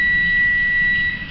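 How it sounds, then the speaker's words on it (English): An electronic alarm gives one loud, steady high-pitched tone that holds for just over a second, then cuts off into a quiet room. "Must be an alarm."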